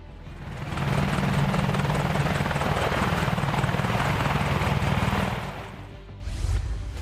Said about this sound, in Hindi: advance combat helicopter